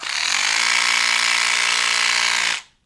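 LifeBasis rechargeable mini power scrubber running alone, a steady, loud, high-pitched motor whine held for about two and a half seconds before spinning down to silence.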